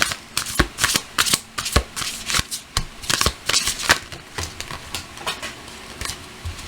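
Tarot cards shuffled and drawn, a close run of crisp riffling and slapping card sounds that repeat in quick, uneven bursts.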